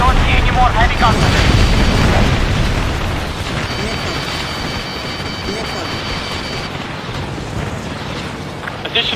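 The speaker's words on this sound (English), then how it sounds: "More heavy guns." Heavy gunfire and explosions in the combat flight game Ace Combat Assault Horizon make a dense, loud, continuous rumble of booms and bursts, thinning slightly partway through, with faint tonal beeps layered over the barrage.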